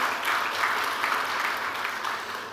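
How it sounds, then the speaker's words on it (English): A seated audience at a formal gathering of Indians in Dubai applauds a visiting ambassador, an even, steady wash of many hands clapping without pause. "Can we have a big round of applause for His Excellency?"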